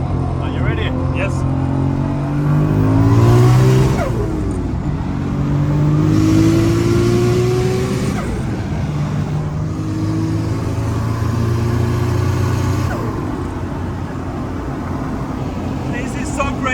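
A 1000 hp Toyota Supra with a 2JZ engine accelerating hard on the autobahn, loud in-car engine pulls rising through several gears with brief dips at each shift.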